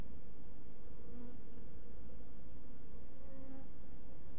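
An agitated honeybee colony buzzes at an opened hive, a dense low droning hum that holds steadily throughout at moderate, close volume, with no voices.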